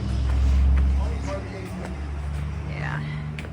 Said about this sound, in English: The car went by.